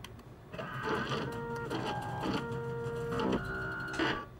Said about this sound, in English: Use a 3D printer to make weapons.